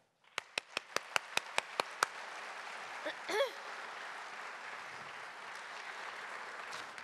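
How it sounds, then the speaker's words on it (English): An audience at a regional investors' breakfast claps in thanks to the event sponsors, starting with a few sharp separate claps and then settling into soft, steady applause that fades into a low background murmur. "I'd like for us to do, is to clap and thank the sponsors of this event."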